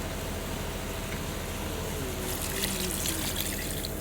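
Water pours steadily into a cooking pan holding ground red onion and Scotch bonnet pepper, a continuous close splashing trickle with no voices.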